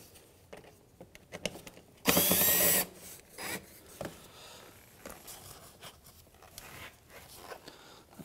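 Power drill backing out Phillips head screws from the front bumper grille trim of a 2007-2013 Mitsubishi Outlander, one short close whir that stands loud above faint handling noise.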